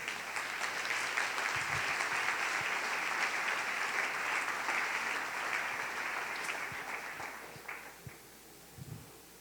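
Sustained applause from an audience at a Sunday church service, steady and dense for most of the clip before thinning out and fading near the end.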